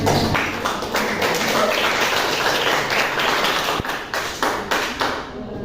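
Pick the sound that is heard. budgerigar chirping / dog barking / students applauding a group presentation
students applauding a group presentation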